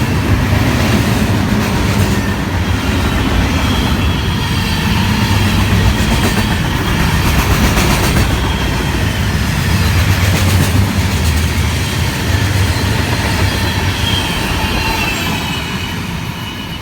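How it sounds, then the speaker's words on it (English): A Union Pacific local freight train led by two SD70M locomotives rolls past close by, a loud continuous rumble of wheels and cars with rhythmic clatter over rail joints and occasional squeal, fading slightly at the end. "Here comes the local with two SD70Ms, 4449 and 4746 leading"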